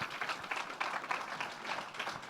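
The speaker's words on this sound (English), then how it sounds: "Big round of applause." A conference audience at a tech summit applauds an award winner from the United States Postal Service; the moderate, steady crowd clapping sounds somewhat distant and runs without pause for a couple of seconds.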